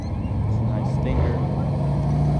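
A Chevrolet Camaro rumbles nearby at a Sunday park car meet, a steady low engine drone with people chatting over it.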